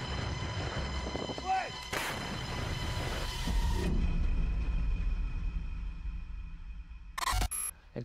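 A 2S7 Pion heavy self-propelled artillery gun fires twice in the distance. Each shot is a broad, booming blast, with the second coming several seconds after the first, over low rumbling background noise.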